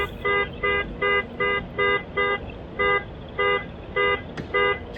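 A C7 Corvette's car alarm blares in regular, evenly spaced honking pulses, about a dozen loud horn-like blasts with short gaps, heard close and alone outdoors.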